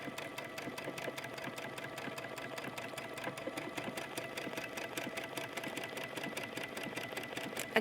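Sewing machine stitching an elastic waistband onto jogger pants in contrasting thread, a steady, fast, close rhythmic stitching clatter running without pause and with no talking.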